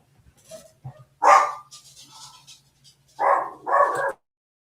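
A dog gives a few short, sharp barks in separate bursts with quiet gaps between them, heard close and fairly loud.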